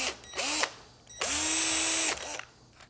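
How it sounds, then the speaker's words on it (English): A power drill bores straight down into the end of a wooden dovetail box: a short burst of whining spin, a pause, then a longer, loud steady run that winds down, with no talk. "For the center hole along the ends, I can just drill straight down."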